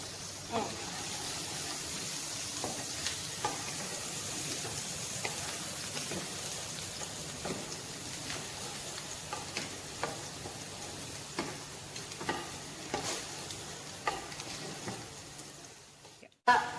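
Garlic sizzles softly in a pan as it is stirred, a steady low frying hiss broken by regular light scraping taps of a utensil, with a louder clatter at the very end.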